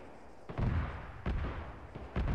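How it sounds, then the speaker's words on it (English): Explosions in a vehicle combat video game, with a Bradley fighting vehicle under RPG fire, land as three sharp, loud booms about every 0.8 seconds, each with a short rumbling tail. "You just hear the explosions happening."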